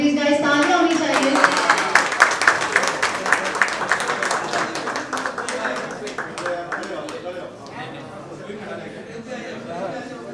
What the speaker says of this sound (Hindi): Please guys, तालियां होनी चाहिए.